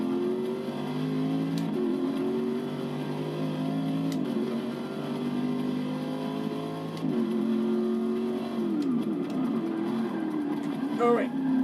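Race car engines in Forza Motorsport 6 at Road Atlanta, with McLarens and BTCC cars in the field. Steady droning revs rise and shift with gear changes under continuous talk.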